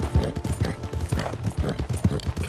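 Video-game horse hooves of Epona in Red Dead Redemption 2, a steady rhythmic clip-clop of a riding gait, close and fairly loud and continuous throughout.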